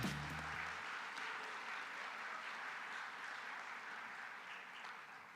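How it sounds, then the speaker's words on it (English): Convention audience applauding at an Optimist International annual business session, a soft, distant, steady wash of many hands clapping, with a brief low hum at the very start. "Have a nice round of applause for all of them all."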